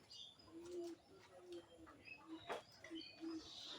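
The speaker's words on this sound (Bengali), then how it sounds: "একটা কবুতর বসে আছে, দেখেন মনে হয় বাচ্চা বা ডিম নিয়ে বসে" Pigeons on a pigeon farm give soft, repeated low coos in a loose rhythm, faint and close, with a few light chirps and a brief flutter between them.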